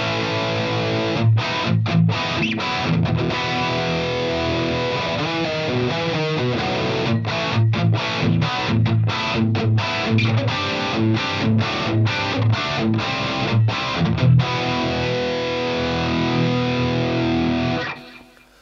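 A heavily distorted electric guitar through a Fractal factory preset, with a bright, effected 80s-style tone, plays chugging, rhythmic stops and riffs for about eighteen seconds, then cuts off.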